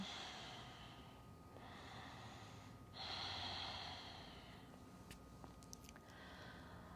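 Slow, deep breaths during a Forrest Yoga class, with several long inhales and exhales drawn in a steady rhythm, close and soft over a quiet room hum, with one fuller breath midway.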